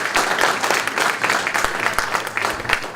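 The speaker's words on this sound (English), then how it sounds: "Let's give them a round of applause for" Audience at a city hall community presentation applauds steadily for about three seconds, a dense, sustained clapping with no talk over it.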